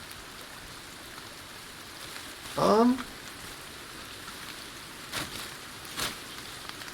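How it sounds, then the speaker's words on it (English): Steady in-game rain hisses across the whole scene in the survival game Sons of the Forest, a soft even patter with a brief voiced exclamation and a couple of faint thuds over it. "Lovely, it's raining."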